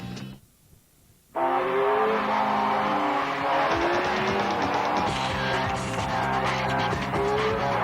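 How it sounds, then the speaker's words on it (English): A 260-horsepower Acura CL Type S car drives at speed, a loud sustained engine roar with rising gear pulls that bursts in after a brief quiet start. "The 260 horsepower Acura CL Type S."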